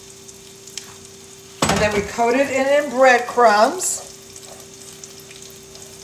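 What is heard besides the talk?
eggplant frying in olive oil with fresh garlic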